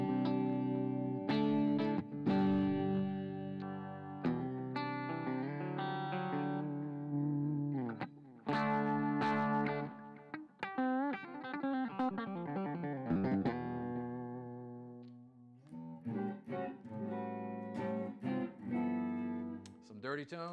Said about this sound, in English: I'll play some clean tones and let you hear it.